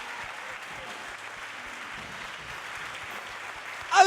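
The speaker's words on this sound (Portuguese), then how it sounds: "Vamos dar um forte aplauso ao nosso Deus." A church congregation applauding, a soft steady wash of clapping heard from a distance, with a brief louder voice breaking in at the very end.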